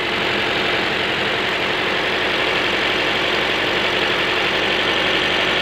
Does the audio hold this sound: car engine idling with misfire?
yes